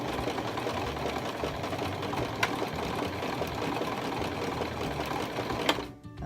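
A sewing machine stitches a zigzag across paper, its motor running in a steady, fast mechanical whir with rhythmic needle ticking, close and continuous before stopping abruptly at the end.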